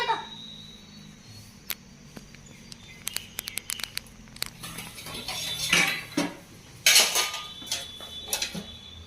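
Steel dish and cutlery clattering at home in the morning as a small child handles them, with scattered metallic clinks and taps, then a louder jangling cluster toward the end, near and fairly quiet.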